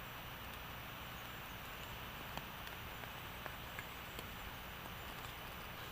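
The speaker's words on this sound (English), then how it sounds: "although the rain's dripping on the tent" Rain residue dripping from trees onto a bivvy tent in dense woodland, faint scattered taps over a quiet hiss, with a few sharper isolated drops.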